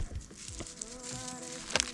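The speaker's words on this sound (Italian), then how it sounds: "Ci sono le mosche, amore" Flies buzzing around outdoors during hot summer days: a close, wavering insect drone that rises and falls as the flies circle near the microphone, with a few faint background clicks and no speech.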